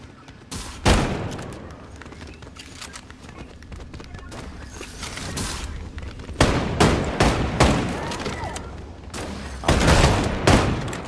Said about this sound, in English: cause I'm shooting at the door